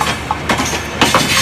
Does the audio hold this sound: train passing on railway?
yes